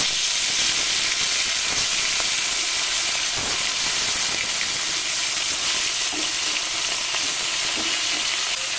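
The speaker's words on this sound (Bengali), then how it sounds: "এবার মাছ কটা আমি ভেজে নেব।" Snakehead fish fry in very hot oil with a loud, steady sizzle and hiss that runs continuously from start to finish.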